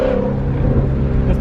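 A Ford Mustang GT350 pulling hard in third gear, its V8 engine a loud, close, rising roar with a rich low drone heard from inside the car, no talk over it.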